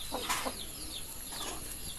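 Backyard chickens in a small home coop made from an old tank give a few quiet, short clucks and calls, scattered and somewhat distant over faint background noise.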